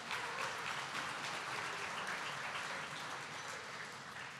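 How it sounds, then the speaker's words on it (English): Hockey fans at a hall of fame induction evening applaud in a large room, a dense, steady wash of many hands clapping that holds for the whole stretch and eases slightly toward the end, fairly distant. "Give yourselves a round of applause"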